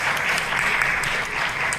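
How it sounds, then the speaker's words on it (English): A room full of people at a film festival claps in steady, sustained applause, a dense even wash of hand claps throughout. "can we give ourselves a round of applause"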